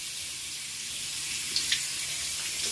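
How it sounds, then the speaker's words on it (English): Water streams steadily from a tap into a sink while hands are rinsed under it, a close, constant splashing rush with a couple of faint small knocks and no talking. "Rinse your hands, do-do-do."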